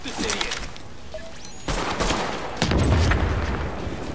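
Rapid bursts of gunfire and booming shots in the video game The Division, loud and dense throughout, with heavier firing swelling in the second half and no voices heard.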